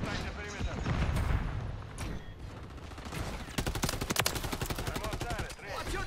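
Bursts of automatic gunfire in Modern Warfare 3, sharp close shots in quick volleys with impacts and clatter, mixed with shouted talk from soldiers.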